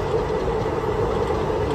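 A passenger train rolling along the rails past farmland en route to Goa, heard from on board as a steady, loud, continuous rumble with no voices.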